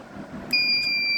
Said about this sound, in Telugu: వెట్ క్లాత్ అనేది ఇక్కడ మనకి ఇలా పెట్టినప్పుడు ఏమవుతుందో ఆటోమేటిక్గా మనకి బజర్ వస్తుంది అనమాట